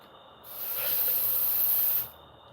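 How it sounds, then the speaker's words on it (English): A steady hiss of water spraying into a lure paint cup to rinse out old paint, one continuous burst of about a second and a half, close and moderately loud. "Spraying the water, gets it nice and clean."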